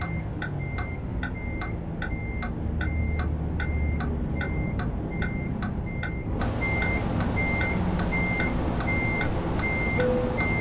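Reversing truck in American Truck Simulator sounding evenly spaced electronic backup beeps, steady and loud, about two per second over a low engine idle, the tone pattern shifting partway through.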